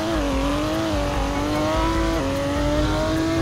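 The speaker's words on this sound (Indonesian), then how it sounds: "Nah jadi ini dia nih suaranya dari si Porsche 911 Turbo S." A Porsche 911 Turbo S engine revs steadily at a car meet, a loud sustained tone rising and dipping slightly, heard alone without voices.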